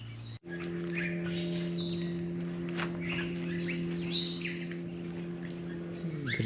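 A bird sings at an aviary on Menjangan Island, Bali, with bright chirps and short whistled phrases over a steady low mechanical hum.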